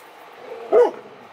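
A single short bark or yip from puppies rises briefly out of a low background hum, loud and close for a moment before fading.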